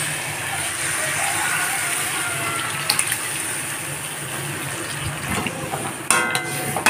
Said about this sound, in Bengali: এখন সিদ্ধ করা ডালটাকে দিয়ে দেব